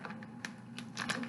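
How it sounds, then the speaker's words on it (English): Quiet, crisp knife cuts through tomatoes on a cutting board, a short run of irregular taps and slices close by. "cut up my tomatoes."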